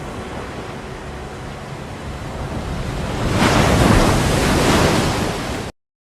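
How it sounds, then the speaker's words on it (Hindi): Ocean surf washes in as a steady broadband rush, with wind noise on the microphone. It builds louder partway through as a wave surges near, then holds and cuts off abruptly. "तो ये जो इसमें पानी की आवाज़ थी बेसिकली वो पहले से ही आपके पास यहाँ इन होनी शुरू हो गई"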